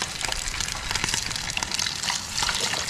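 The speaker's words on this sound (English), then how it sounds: "I'm not doing anything to the fish other than just shallow frying it." A fish shallow-fries in a pan while boat camping on a remote island beach, giving a steady close crackling sizzle with dense popping spatter and no talking.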